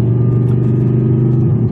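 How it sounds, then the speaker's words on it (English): An Audi R8 with an Armytrix exhaust system drones loudly in a tight, enclosed car park, its deep steady engine rumble close by and echoing, with no talk. "you guys also get to see, or hear, my Armytrix exhaust system in a very, very tight and enclosed space"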